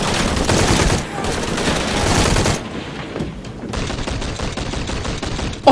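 Gunshots in the Tomb Raider video game, with loud bursts of rapid fire that break off briefly and then resume at a similar intensity, with no voices over them.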